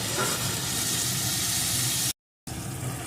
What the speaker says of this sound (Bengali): বেশ কিছুক্ষণ আমি এটাকে ভেজে নিয়েছি